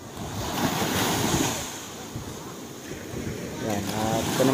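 Ocean waves wash around a fishing boat at sea off Bucana, with gusting wind buffeting the microphone. The surf rolls steadily and loudly throughout, and voices may be faintly present underneath.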